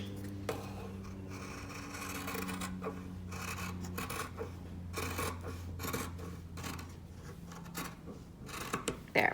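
Scissors snip and rasp while trimming threads on a fabric drawstring bag, a series of close, quiet cuts and rubbing sounds over a low steady hum.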